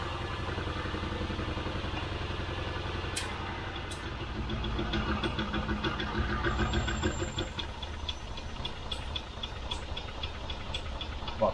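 A Rover V8 engine idles with a rough, rumbling drone, and the hydraulic tappets add a rapid, regular light ticking on top of it that continues steadily at close range.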